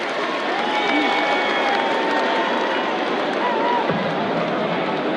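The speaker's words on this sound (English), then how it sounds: "the crowd in Copenhagen loving every second of it" A large darts crowd in Copenhagen at the Nordic Darts Masters final cheers and applauds in a dense, continuous roar of clapping and voices, loud and steady throughout.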